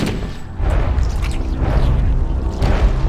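A grenade detonating in the Halo video game gives a loud, close, deep boom that swells after a short lead-in and rumbles on with heavy low-end noise. No voices are heard.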